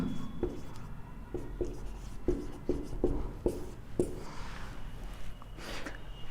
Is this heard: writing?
yes